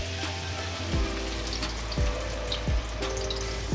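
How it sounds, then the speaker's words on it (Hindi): Ground onion fries in oil in a frying pan for an aloo gola kabab curry, giving a steady, close watery hiss with a few soft low knocks from the pan spaced through it. No voices are heard. "अब प्याज को फ्राई कर लेते हैं।"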